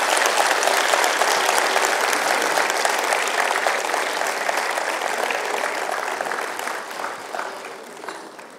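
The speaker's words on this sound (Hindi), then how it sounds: "जोरदार तालियां इनके लिए।" Sustained, loud audience applause from a crowd in a hall at a live parenting talk event in Jaipur, welcoming a guest speaker to the stage; dense clapping holds steady, then gradually thins and fades toward the end.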